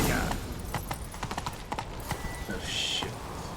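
Horse hooves gallop in The Witcher 3, a rapid, continuous clip-clop rhythm mixed with in-game ambience and effects.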